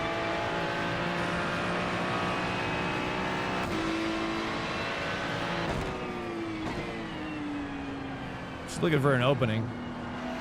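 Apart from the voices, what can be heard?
race car engine downshifting in the video game iRacing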